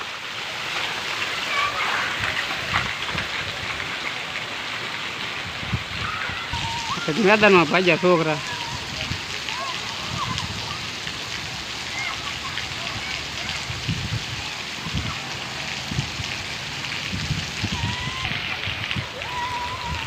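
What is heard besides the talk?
rain falling in the market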